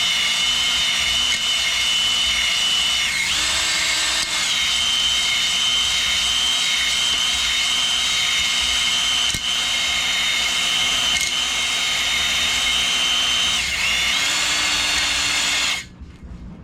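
A drill-driven hone works inside a B series engine cylinder with a loud, steady whine that dips briefly in pitch twice, then stops sharply near the end.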